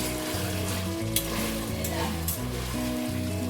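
Jackfruit seeds and layer-hen chicken stir-fry in a pan with spices, giving a steady, close sizzle and the scrape of stirring throughout, with a background melody running alongside.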